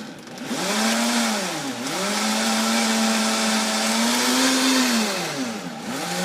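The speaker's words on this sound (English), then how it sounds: "So now we're going to turn it on, let it get a nice churn in there." A blender making a milkshake whirs loudly and steadily, dipping in pitch twice as the load shifts, then spinning back up to full speed.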